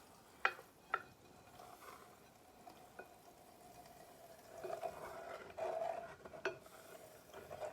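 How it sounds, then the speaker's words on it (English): Lye being stirred slowly into a solution for hot process soap, with a few sharp clinks of a utensil against the container and then a stretch of louder scraping and swishing, close by, with no talking. "We're going to put this in slowly, kind of stir it."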